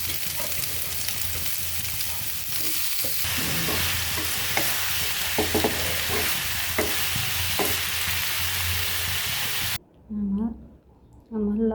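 Boiled bottle gourd leaves fry and get stirred in a pan, a steady loud sizzle with scraping stir strokes, cutting off abruptly near the end as a voice speaks over the quiet.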